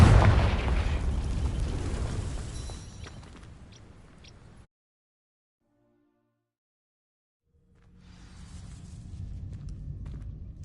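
Fiery whooshing roar of the Confringo spell setting dry vines alight in Hogwarts Legacy, loud at first and fading away, then after a stretch of silence a softer crackling rumble.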